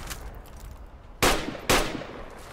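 Two sharp, loud gunshots in the military shooter Project Reality ring out about half a second apart over a quiet background, each followed by a short decaying tail.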